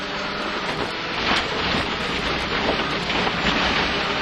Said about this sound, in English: Oh, rain, perfect timing.